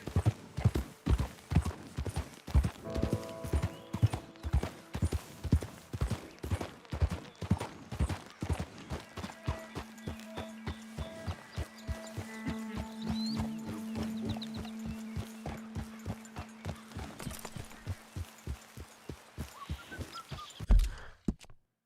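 Horse hooves clip-clopping at a steady trot to gallop rhythm in Red Dead Redemption 2, loud and close throughout with a low droning tone in the middle and a faint neigh-like sound near the start.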